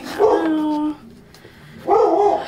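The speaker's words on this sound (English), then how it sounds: "Oh my god, Aries, what are you barking at" Two loud, drawn-out dog barks or yelps, close by, separated by a short pause.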